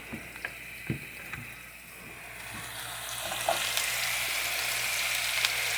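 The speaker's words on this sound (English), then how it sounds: "get your ground beef and your onions all mixed up together and let them brown" Ground beef and chopped onion brown together in a pan with a few drops of oil for a hamburger casserole. A few utensil clicks and taps come first, then a close, steady sizzle builds and grows louder.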